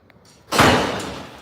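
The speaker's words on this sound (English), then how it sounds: "you ain't slammed the door" A door slams shut with one loud, close bang after a few quiet seconds, near a fishing dock, and the boom fades away with no voices.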